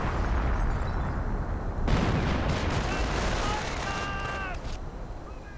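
Artillery shells exploding during a one-on-one match of a World War II real-time strategy game, with heavy booming blasts over continuous battle noise and faint chirping effects, while a commentator talks over the action.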